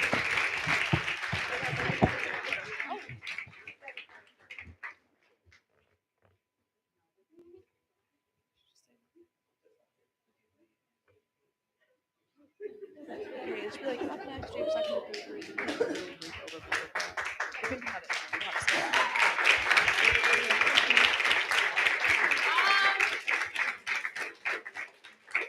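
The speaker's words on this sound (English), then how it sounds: "Can we give them another round of applause, please?" An audience at the Chinmaya Ramdoot Samskriti 2025 event applauds a performance: a dense, loud round of clapping fades out, then after a long silence a second, fuller burst of applause swells and carries on to the end.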